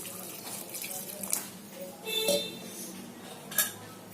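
A glass of water is poured into a pressure cooker holding leftover vegetables with salt, turmeric and chili powder, with a splash and clinks of metal utensils in a kitchen, moderately close and without talk.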